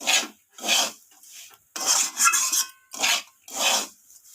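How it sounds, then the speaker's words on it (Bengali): A spoon stirs semolina (suji) with fried peanuts in a pan, making five distinct gritty scraping strokes in a steady rhythm, close and clear, with quiet gaps between strokes and no talking. "তো বাদামটাকে দিয়ে আমি আবারও এইভাবে নাড়াচাড়া করে নিচ্ছি"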